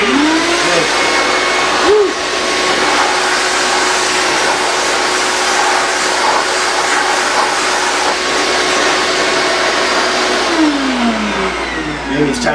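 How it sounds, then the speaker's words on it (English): A shop vacuum running continuously, a loud, steady close-up whine and roar with small pitch wavers, lasting the whole stretch without letup. "Maybe it's time to get a new shop vac."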